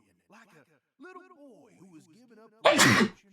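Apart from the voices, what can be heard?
character sneezing in video game Deadly Premonition 2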